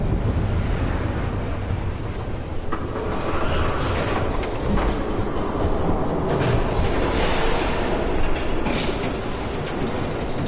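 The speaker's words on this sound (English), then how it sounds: "There's a train coming." A train approaches in the video game Batman: The Telltale Series. It comes as a loud, continuous rumble and clatter of wheels on rails, with sharp squealing bursts and no talk.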